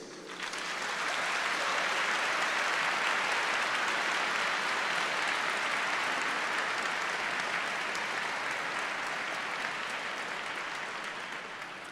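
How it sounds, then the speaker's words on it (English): Graduation audience at a 2024 Liverpool University ceremony gives a long, steady round of applause, a dense wash of clapping from a large hall that swells quickly and holds for about ten seconds before tapering slightly. "can you just show your appreciation to all the people who've supported you in achieving your degrees? A big cheer, please."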